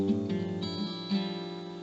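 Fingerpicked acoustic guitar intro of a song, played close up as a steady rolling pattern of ringing notes, picked forward and backward across the strings, with no voice.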